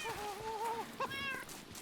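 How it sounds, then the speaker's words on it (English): A cat in a video game meows twice: a drawn-out, wavering mew, then a shorter, higher one after a brief pause. Both are clear and close, with no talk. "Oh, there's my cat."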